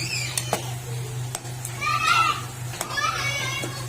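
Noisy children playing in the background of a home kitchen, their high shouts and squeals coming in short bursts from some distance over a steady low hum, with occasional sharp knocks nearby.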